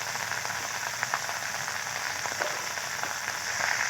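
Malabar spinach with peeled stems and small cut potato pieces fry in a pan, making a steady close sizzle with scattered light ticks and scrapes from stirring, unbroken for four seconds and free of speech.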